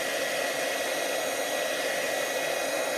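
A craft heat tool blows hot air to melt embossing powder, a loud, unbroken fan-like whoosh that holds steady throughout.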